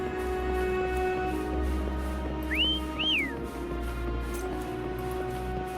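A character whistles in Wuthering Waves 2.2: two short rising whistle notes, clear and moderately loud, over a steady ambient background hum and faint music, with no one talking.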